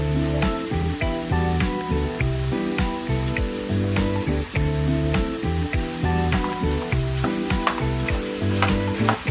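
Chicken and beef sizzle loudly in a pot for a one-pot ragù, with steady frying crackle and repeated clanks and scrapes of stirring throughout.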